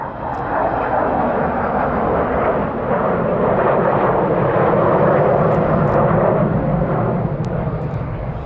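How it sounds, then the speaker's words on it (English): A khaki-painted, low-level conventional bomber flies at the Eastbourne airshow. Its engines give a loud, continuous roar that swells slightly as it passes and holds steady for several seconds, with no talk over it. "This khaki-painted, low-level conventional bomber"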